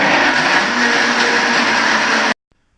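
A blender whirs loudly and continuously, close by, as it blends almonds into almond milk, then cuts off abruptly to near silence.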